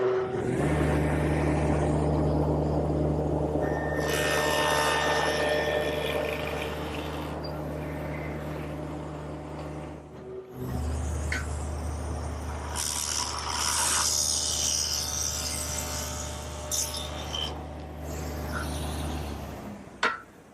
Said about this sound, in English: I've set up my dado head cutter in the table saw, a stacked dado head